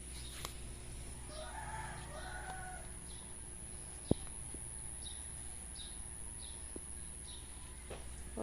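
Chickens cluck softly in a backyard in the morning, a scatter of short, faint clucks and calls spread across the stretch, with one sharp knock partway through and a steady high background whine.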